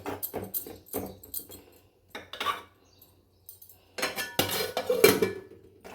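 Utensils knock and scrape against a cooking pot while masala tomato curry is stirred, then a lid clatters on, a few sharp clinks and scrapes in separate bursts with quiet gaps between.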